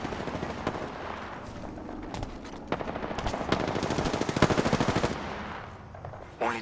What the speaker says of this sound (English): Firing. Getting shot at.